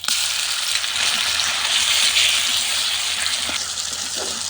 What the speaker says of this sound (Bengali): এবার আমি বেটে রাখা মশলাগুলো দিয়ে দিব।